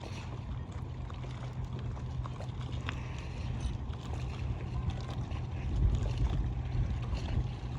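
A small boat with an outboard engine runs on open water, a steady low motor rumble mixed with wind and water wash, fairly close and continuous with no talking.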